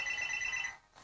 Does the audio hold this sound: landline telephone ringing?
yes